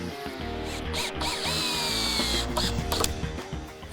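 A power drill drives a screw into a wooden deck frame built beside a rocky shoreline, whirring up with ratcheting clicks and a rising whine for a few seconds, loud and close.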